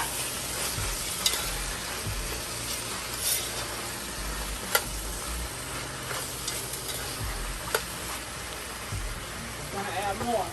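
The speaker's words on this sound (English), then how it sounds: "Gonna give that a stir." Food being stirred in a pan with red pepper flakes, soft scraping and sizzling running steadily throughout, with a few sharp utensil clinks against the pan, close and fairly quiet.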